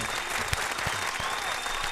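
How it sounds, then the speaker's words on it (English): An audience applauds a guest on a music interview show, a dense continuous roar of clapping with a few sharper claps standing out near the front. "Give this man a round of applause"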